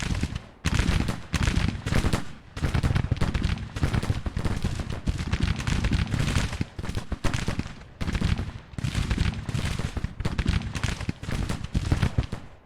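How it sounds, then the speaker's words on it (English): Cannon and musket fire crackle in the Civil War strategy game Grand Tactician, a dense, loud, continuous barrage of overlapping shots and booms with brief lulls. "We have a cannon engaged now."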